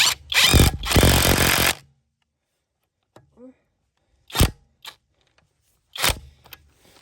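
A Stromo AWA25 cordless impact wrench works a wheel bolt in two loud, close bursts of rapid hammering, followed by quieter clicks and short sounds.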